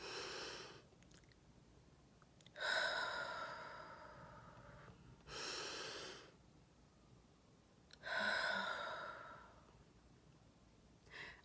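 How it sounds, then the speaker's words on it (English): A person breathes deeply and audibly up close, with four slow, airy inhale-and-exhale swells separated by short quiet pauses and no talking. "Let's take a breath."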